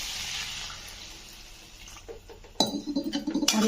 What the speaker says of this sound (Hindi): बर्तमान पानी भी आड कर